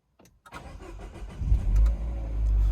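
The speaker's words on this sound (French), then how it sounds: "Je vais vous faire écouter un petit peu le bruit quand elle démarre" A car engine cranks with a few short clicks and whirs, catches and starts, then settles into a low, slightly raspy rumble that swells as it idles up.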